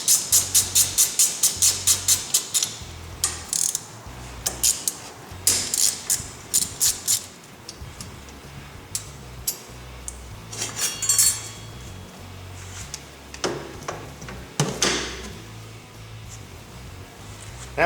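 A wrench ratchets rapidly while two 8mm caliper bolts are removed from an ATV brake, giving fast clicking bursts followed by scattered metallic clinks, creaks and knocks close by in a shop.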